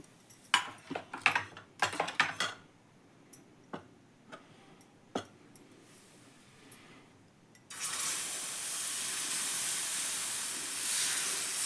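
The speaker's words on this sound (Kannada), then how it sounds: "ನಾನೀಗ ದೋಸೆ ಹಾಕ್ತೀನಿ" A few sharp clicks and taps sound first, then wheat flour dosa batter hits a hot pan and a loud, steady sizzling hiss takes over for the rest.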